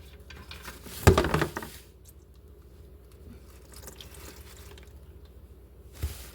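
Transmission fluid drips from a loosened drain bolt on a Honda Civic into a funnel. Quiet, sparse drips and trickles follow a short louder splash near the start.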